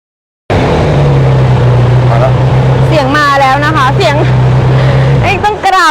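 A car engine turns over and settles into a steady, low idling drone at a vehicle auction yard, with people talking loudly over it throughout.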